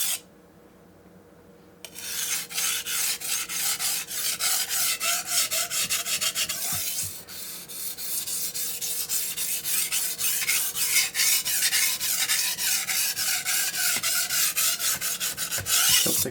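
A blade is sharpened on a Morihei 4000 whetstone, with steady rhythmic rasping strokes scraping back and forth, loud and close after a brief quiet start and continuing alone.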